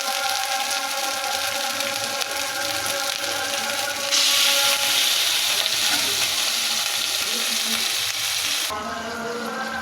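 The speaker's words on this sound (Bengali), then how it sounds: "এখন সিদ্ধ করে রাখা সবজিটা দিয়ে দিব" Boiled vegetables dropped into a pan of ginger-cumin paste set off a loud, steady sizzle that swells sharply when they land, then settles back to continuous frying with no voices.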